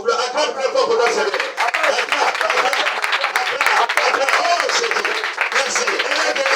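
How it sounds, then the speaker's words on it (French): An audience claps loudly and steadily for a sister declared healed, a dense, continuous wash of applause with voices speaking over it the whole time. "acclame très fort pour ta sœur"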